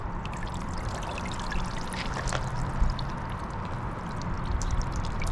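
A small solar water fountain sprays water through a little nozzle, giving a steady splashing, pouring trickle with faint droplet patter, continuous and close, without speech.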